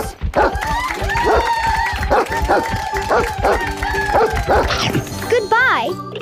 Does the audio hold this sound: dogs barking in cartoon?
yes